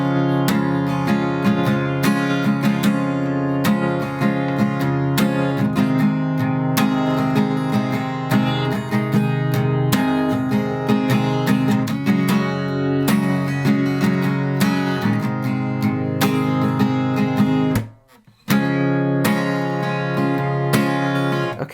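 Acoustic guitar strumming the louder chorus rhythm of a song, a steady driving pattern of rhythmic chord strums played close, with a brief pause near the end and no talking.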